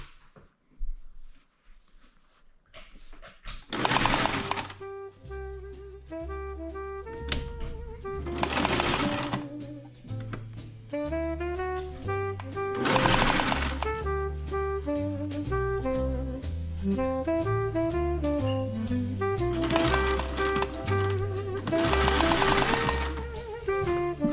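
A sewing machine stitches a tent seam in repeated bursts of rapid mechanical chattering, each run starting and stopping with short pauses between, close and fairly clear after a quiet opening.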